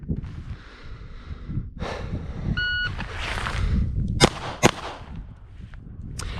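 A short electronic timer beep sounds, followed by a few sharp, loud shots from an LCR-22 .22 revolver at about 7 meters, cracking out in quick succession amid background rustling.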